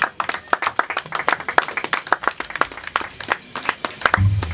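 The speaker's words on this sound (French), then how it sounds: "nous allons acclamer très fort pour la gloire de l'Éternel" Congregation at a church wedding clapping in a quick uneven patter of many hands, loud and close, with no clear cheering before a voice begins at the end.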